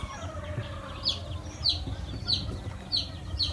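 Farm chickens kept for derby fighting cluck and squawk in short repeated bursts about every half second, fairly close against a steady low rumble of background noise.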